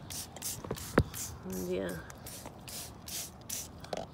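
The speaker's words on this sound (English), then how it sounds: "spray the back of the leaves, as many as you can." Organic pest spray misted onto the undersides of garden leaves, including chard, in brief hissing bursts alongside rustling foliage, with someone speaking briefly nearby.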